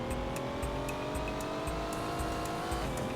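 Video-game car in Knight Rider 2 on PS2, a steady droning engine with squealing tires running throughout, loud and continuous with no voices.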